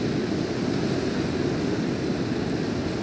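Steady ocean surf washing continuously along a shore, a broad even roar with no distinct breaks, heard alone.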